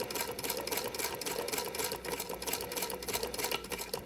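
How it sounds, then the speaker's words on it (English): A sewing machine fitted with an adjustable hemmer foot stitches black fabric, giving a fast, continuous mechanical whirr with rapid rhythmic ticking from the needle, steady and close throughout. "black fabric on a black sewing machine"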